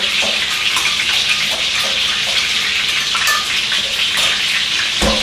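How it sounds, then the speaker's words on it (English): Chicken for orange chicken browns in a pan on the stove, giving a continuous bright hiss and sizzle that stays fairly loud and even throughout, with a few small pops and no talk. "you can hear the chicken just browning on the stove"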